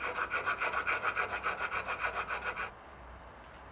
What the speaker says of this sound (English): I'm just going to start the filing with this small round file